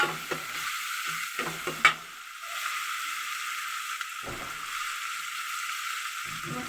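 Cumin seeds fry in hot oil in a pan, a soft steady sizzle with a few light taps and crackles early on, close up and without speech.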